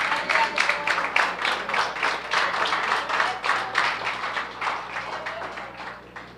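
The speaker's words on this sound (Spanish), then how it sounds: "¿Por qué no le damos un aplauso, hermano?" A church congregation claps together in a steady, fairly quiet round of applause that gradually fades, with no talk over it.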